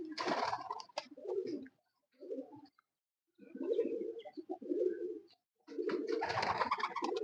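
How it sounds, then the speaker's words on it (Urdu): Breeder pigeons in Abbottabad coo and flutter nearby in several bursts, with short quiet gaps between, the low throaty calls mixed with wing flaps. "تو وہ جو کبوتر ان کے پاس اڑ رہے ہیں"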